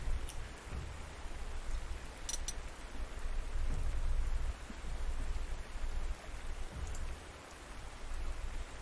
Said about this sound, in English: Makes sense to repair now while it's raining.